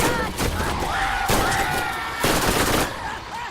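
Rapid automatic gunfire from the Hellfire weapon in Borderlands arena combat, loud bursts of shots with game effects between them, a voice talking over the action.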